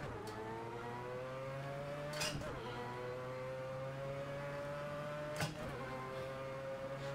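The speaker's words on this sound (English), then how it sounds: "I'm downshifting into 1st for this corner" Race car engine in a racing video game holding steady tones, with two short bursts around the shift points as it downshifts into first gear for a tight corner, loud and continuous with no talking.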